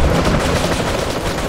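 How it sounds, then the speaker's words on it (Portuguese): In a GTA mod, an Aquaman character fires a gun in a loud, dense, continuous burst of automatic gunfire that fills the whole moment. "Agora ele atira com arma também"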